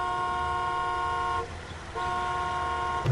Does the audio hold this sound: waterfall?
no